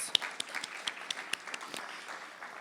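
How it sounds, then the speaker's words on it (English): Sparse applause from an awards-night audience: scattered individual claps ring out near and clear over a thin, steady patter from the rest of the crowd, and no one speaks. "please give yourselves another round of applause"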